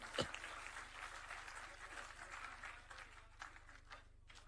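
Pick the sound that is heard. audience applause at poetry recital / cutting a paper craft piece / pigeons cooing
audience applause at poetry recital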